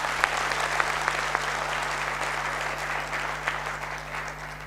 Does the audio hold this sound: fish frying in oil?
no